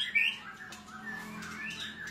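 Two female white-rumped shamas (murai batu) call from close by, a sharp, bright chirp at the start followed by softer, scattered tweets and whistles over a quiet background.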